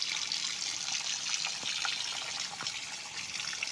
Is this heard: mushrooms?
no